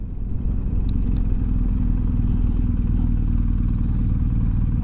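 Motorcycles travelling along Argentina's Ruta 40 near El Chaltén, with a steady, continuous engine drone and rumble up close, low and loud throughout, with a few light clatters over it.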